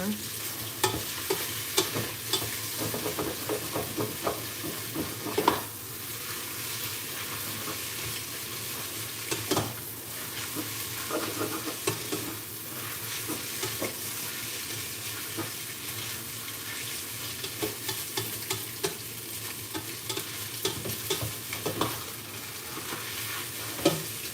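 Food being stir-fried in oil, with a continuous crackle and sizzle under repeated scraping and clinking of a utensil against the pan, plus a few louder knocks and no talking.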